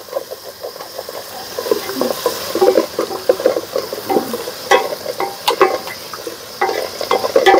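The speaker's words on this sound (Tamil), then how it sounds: "இது வந்து உப்பு போட்டு நல்லா வதக்கி எடுத்துக்கோங்க." Food sautéed with salt in a pan, the spatula scraping and clattering steadily against the metal under a constant sizzle, fairly loud and close, with no voices.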